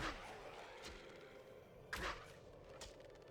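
Arrows are loosed in the Lord of the Rings: The Return of the King video game. Three quick, faint whooshing shots are spaced across a few seconds over a low game background.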